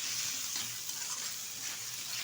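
Pangas fish mash with fried fish and salted crushed dried chilli being stirred in a pan, giving a steady soft sizzle with faint scraping, quiet and close, no talking.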